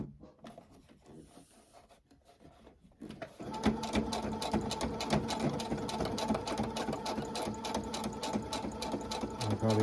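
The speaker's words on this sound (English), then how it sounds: "And this is the final stitch around the border of the piece." A sewing machine runs a final stitch around a bias-tape border, starting after quiet fabric handling and then stitching steadily and close for several seconds.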